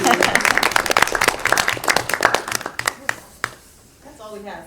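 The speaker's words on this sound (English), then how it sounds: "I think a round of applause." Round of applause from an audience at an education committee meeting, dense clapping for about three seconds then thinning to a few scattered claps, with a voice speaking faintly at the end.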